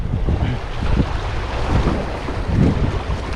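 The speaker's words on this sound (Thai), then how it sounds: "สู้ลมไม่ไหว ลมแรงมากเลยครับ" Strong, gusty wind blows at the shore, a loud roaring rush buffeting the microphone in surges over the sound of waves, with no voices.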